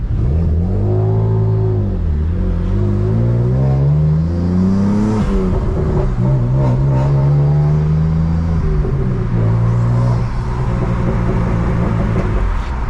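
A manual BMW M3 engine revs loud and close, its pitch climbing and dropping in repeated surges as the car pulls away in first gear.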